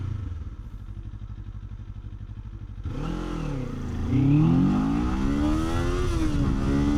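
A Kawasaki Z500 motorcycle engine idles with a steady clatter, then revs hard and climbs toward its rev limiter above 11,000 RPM, holding a loud, rising and falling wail close to the mic.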